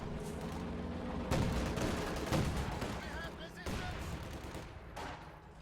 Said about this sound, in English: Heavy mortar bombarding the right side